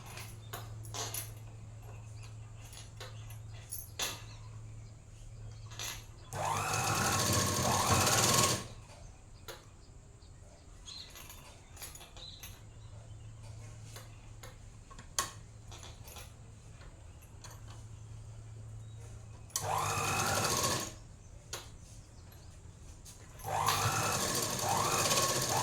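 A sewing machine stitches the neckline of a churidar top in two longer bursts and a shorter one, loud and close, with quiet pauses between them.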